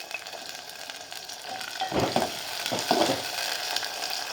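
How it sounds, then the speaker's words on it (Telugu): Onions with mustard seeds and cumin frying in hot oil as green chillies go in for a ridge gourd fish curry, a soft steady sizzle with two brief louder bursts of crackling and stirring. "ఉల్లిపాయలు వేగినాయండి ఇప్పుడు పచ్చిమిరపకాయలు వేసుకుందాం"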